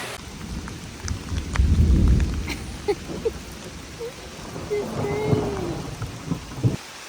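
Steady rain patters across the whole clip on a backpacking hike, with a low rumble of thunder swelling partway through and scattered drips and faint background voices.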